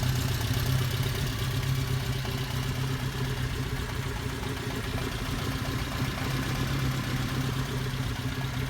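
A 1979 Alfa Romeo Spider Veloce 2000 sits idling with a steady, even engine hum and a light mechanical clatter, close and continuous throughout, with no voices.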